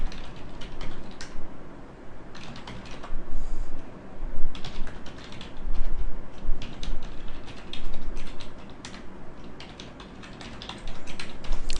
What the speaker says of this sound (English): you'll start getting sick of typing in those logon details